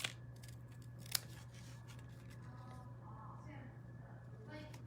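Scissors trimming paper for a handmade card, one or two quick close snips standing out over a quiet room hum.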